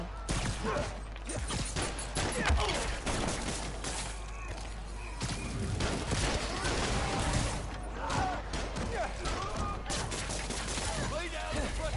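Dense gunfire rattles through a Spider-Man Miles Morales video game scene, rapid bursts of shots and crashes packed tightly together, loud and continuous, with voices mixed in under the barrage.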